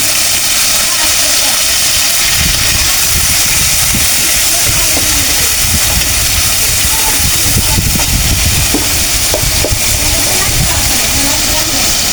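Shrimp hit a hot pan and sizzle loudly in a steady broadband hiss that fills the whole stretch. A person talks over it at intervals.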